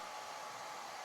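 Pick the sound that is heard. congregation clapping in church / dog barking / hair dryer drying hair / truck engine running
hair dryer drying hair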